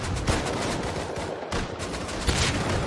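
Hip-fired gunshots in the Rust video game, a rapid, loud burst of repeated shots that carries on almost continuously with a short gap in the middle.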